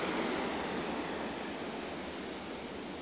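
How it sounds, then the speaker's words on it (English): Big ocean waves wash onto a beach at high tide, a steady, loud, broadband roar of surf that stays constant throughout with no clear individual breaks and no talking. "Starting to get some pretty big waves."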